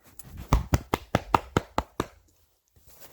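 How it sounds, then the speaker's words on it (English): Hands clap about ten times in a quick, steady rhythm at a graduation celebration. The claps are close and sharp, then stop and leave near silence. "I can clap."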